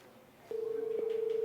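A telephone ringback tone on a call placed to a politician's mobile number: a steady tone begins partway through, pulsing rhythmically, clear and alone after a brief quiet lead-in.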